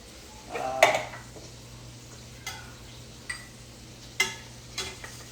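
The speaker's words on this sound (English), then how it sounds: "Add in a little bit of my garlic, simmer that, which will be great." Canned tomato sauce with garlic simmers in a pot, with a soft steady bubbling under a few distinct scrapes and taps of a spoon against the pot at irregular intervals.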